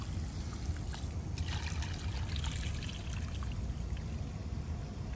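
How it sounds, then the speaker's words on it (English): Excess water dumped out of a bucket during wall skim-coating work, a steady close pouring and splashing rush that runs unbroken for several seconds. "You dump out the excess water,"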